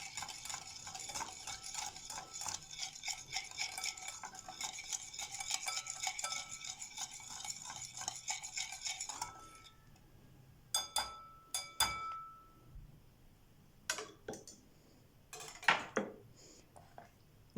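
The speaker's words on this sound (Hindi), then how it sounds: "अब मैं इन सब चीज़ों को अच्छी तरह मिक्स कर लूँगी।" Spoon stirring chicken marinade ingredients with vinegar in a bowl, a steady fast scraping and clinking for several seconds, then scattered sharper taps and knocks against the bowl, close and fairly quiet.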